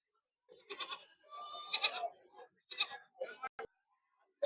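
Several goats, including two-to-three-month-old kids, bleat in quick succession at a livestock market in Shirur, wavering nasal cries close by, with short pauses between and a faint click near the end.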